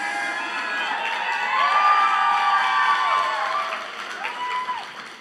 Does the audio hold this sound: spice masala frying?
no